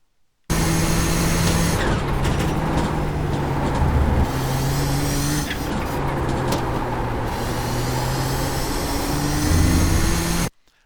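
A race car circles Twin Ring Motegi in the iRacing video game, its loud close engine note rising and falling through repeated gear changes, with brief dips while braking for corners.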